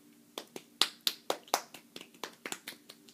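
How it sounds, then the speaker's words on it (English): A handful of hands clapping close by, about a dozen quick, uneven claps over roughly three seconds with a thin, light sound and no voices. "Give a round of applause for the elf on the shelf, chocolate advent calendar, and the Paw Patrol chocolate advent calendar."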